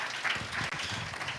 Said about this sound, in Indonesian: tepuk tangan dulu yang kencang buat Tuhan kita yang baik